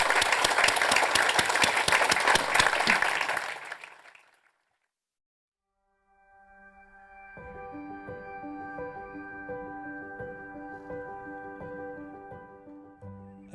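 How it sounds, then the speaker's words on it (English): Warm audience applause at a live event fills the first few seconds and fades out into silence, then a gentle tonal music passage begins and carries on alone. "Warm applause for everybody."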